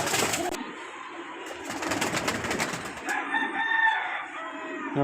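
Pigeons, including coloured fancy birds, coo and rustle in a loft, a steady close murmur of calls and fluttering with a rooster crowing faintly in the distance.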